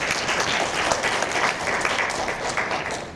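An audience at a keynote talk gives a steady, loud round of applause, dense and continuous throughout the short stretch.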